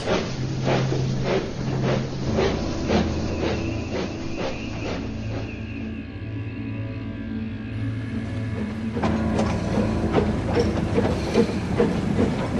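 A train rumbles along the rails with rhythmic clicking of wheels over joints and a low engine drone, loud and steady throughout.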